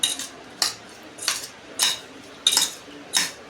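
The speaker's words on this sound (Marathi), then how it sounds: "शेंगाच्या मसाल्यामध्ये आपण पूर्ण मिक्स करतो आहे" A steel spoon scrapes and clinks against a pan while drumstick masala is stirred, six distinct metallic scraping strokes coming at a steady rhythm, close and fairly quiet with no talk.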